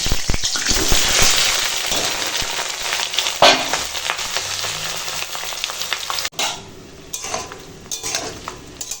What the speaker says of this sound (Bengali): এখন পটল চিংড়ি রান্না করার জন্য পটলটা ভেজে নেব